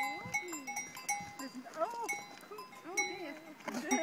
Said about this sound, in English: this is what happens when you try and pet the cow